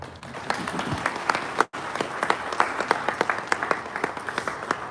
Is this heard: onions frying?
no